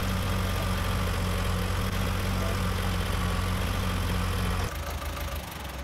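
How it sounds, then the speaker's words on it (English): A farm tractor engine idles and rumbles steadily, loud and close, then drops to a lower, quieter running note near the end. "We'll put the tractor back in the pile ready."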